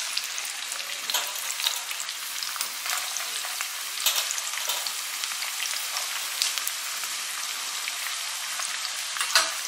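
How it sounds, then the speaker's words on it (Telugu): Chopped onions fry in hot oil in a pan for palak paneer curry, a dense, steady crackling sizzle heard close up, with occasional stirring scrapes and no talking. "ఆనియన్స్ వేగుతున్నాయండి"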